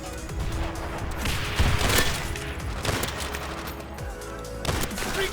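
Gunfire in World at War, including a Mosin sniper rifle, with several loud shots and bursts among dense background battle noise.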